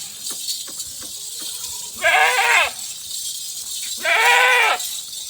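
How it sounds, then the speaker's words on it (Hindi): Majajan goats give two loud, drawn-out bleats about two seconds apart, each lasting under a second, with quiet farmyard background between them and no talking. "इन्हें कहते हैं मजाजन बकरी"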